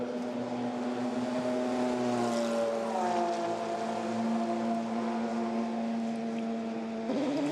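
Toyota hybrid Le Mans prototype pulling out of the pit lane at the 24 Hours of Le Mans, its engine droning steadily with a sustained tonal hum, a rising shift near the end as the engine fires up.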